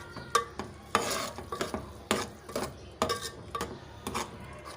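Red chili powder stirred and fried with tomatoes in a pan for chicken masala curry, a spoon scraping in regular strokes about every half second over a faint sizzle, with no speech.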